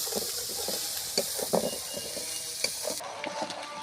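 A spice paste with green chilies fries in a pan for a taki fish bhuna, giving a steady close sizzle broken by soft scrapes and knocks of stirring.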